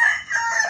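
A rooster offered for sale gives a short, loud crow close by.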